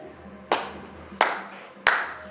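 Three sharp, separate claps ring out at a stage play performance, spaced evenly about two-thirds of a second apart, each with a short echo over quiet background.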